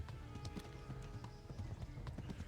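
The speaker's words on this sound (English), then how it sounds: "Come on, trusty horse." Horse hooves clip-clopping at a steady trot in the video game Kingdom Come: Deliverance, a continuous rhythmic patter of hoofbeats over low background rumble.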